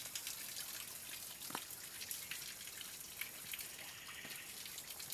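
Water from a spring source at Sitio Latel flows in a soft, steady trickle with scattered drips and splashes, faint and continuous with no talking.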